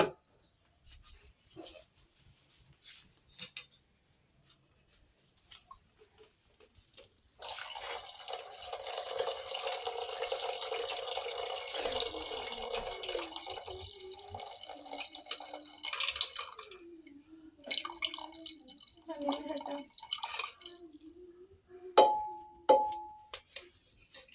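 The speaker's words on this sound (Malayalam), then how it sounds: "ഇനി ഇത് നമുക്ക് അരിച്ചിട്ട് അതിലേക്ക് ഒഴിക്കാം കേട്ടോ" Mutton leg soup is poured and strained with a splashing, trickling sound that swells in the middle, followed by lighter drips and a few clinks of utensils.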